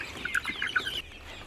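Turkeys in a garden make quick, close clucking and gobbling calls in a short rapid run, then go quiet, with no talking.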